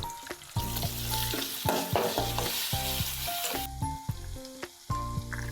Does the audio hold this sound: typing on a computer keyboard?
no